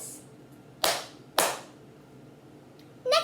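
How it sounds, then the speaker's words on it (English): Two sharp hand claps come about half a second apart, close and alone against a quiet background, as the opening of a cup song rhythm. A light knock follows a moment later. "First step is clap twice."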